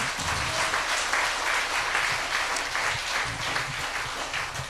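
Congregation applause at a Full Gospel church gathering, a dense, steady wash of many hands clapping that holds for several seconds at moderate loudness, with a faint voice beneath.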